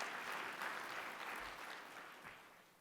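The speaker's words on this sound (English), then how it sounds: "yes, you can applaud yourselves, not me" A keynote audience at a conference gives a soft, steady round of applause that fades slightly over its short span, with no talking over it.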